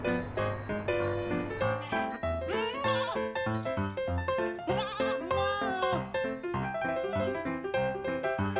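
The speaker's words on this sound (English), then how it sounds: "Can you make the sound of goat?" Goat bleats set against a steady, bright musical backing with chiming notes, the wavering cries recurring over the tune.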